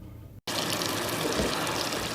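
Water runs steadily from a shower after a short break of silence, a continuous close splashing gush that holds an even level to the end.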